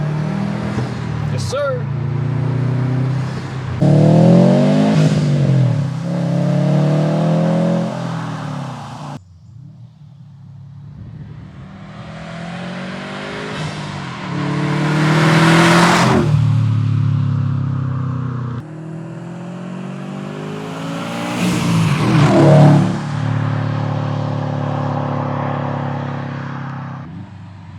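A Subaru STI with a stage 2 tune revs hard through a burnout, engine climbing and dropping in three long surging pulls with gaps between, loud and close, while someone speaks briefly.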